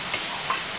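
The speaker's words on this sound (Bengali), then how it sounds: "আমারটুকু মশলাটা ভাজা ভালো হবে" Spice paste sizzling in oil in a pan while being stirred for a country chicken curry, a brief close crackling hiss with a couple of soft scraping touches, no voices.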